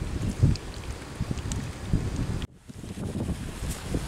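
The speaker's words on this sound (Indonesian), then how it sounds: "anginnya kenceng banget Mas Bos" Strong wind gusts buffet the microphone at a tilapia fishing spot, a loud, steady roar that drops off sharply for a moment partway through and then rushes back.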